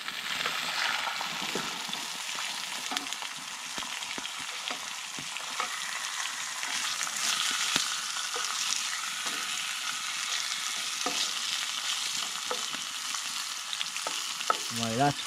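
Food fries in a pan at a bushcraft camp in the UK, a continuous close hiss and crackle with occasional stirring scrapes, heard on its own.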